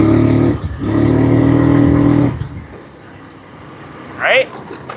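A scooter engine revs loud and close under throttle, drops briefly, surges again, then cuts to a quieter idle, followed by a short rising whine.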